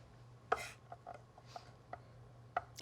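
A knife slices raw salmon on a board: a few separate, sharp cuts and taps, quiet and spaced out, in a still kitchen.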